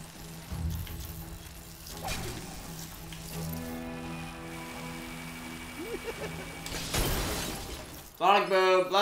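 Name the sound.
glass shattering in Lego DC Super-Villains video game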